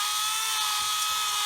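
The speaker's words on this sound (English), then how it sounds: "this is a Tamiya electric handed drill" Small Tamiya electric hand drill buzzing against a plastic scale model kit, a thin high-pitched whine held steadily for a moment with faint light ticks underneath.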